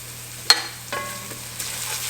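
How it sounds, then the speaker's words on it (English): Chopped garlic lands in a pan of softening onions with a sharp crackle, then a low, quiet sizzle continues with a few soft stirring knocks. "We are going in with our garlic."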